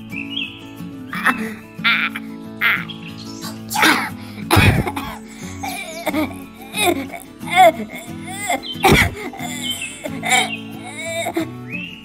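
A voice imitates repeated coughing in bursts mixed with speech-like sounds, as though a small creature were hacking and choking.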